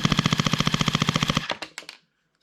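A Sailent Arms BLU airsoft electric pistol fires one loud, close full-auto burst of rapid, evenly spaced shots lasting about a second and a half, then a few spaced final shots before silence.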